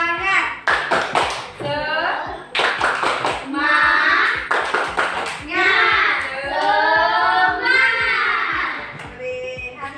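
Children in a primary school class perform the 'tepuk semangat' clapping chant, with sharp rhythmic hand claps in quick bursts interleaved with loud unison chanting voices.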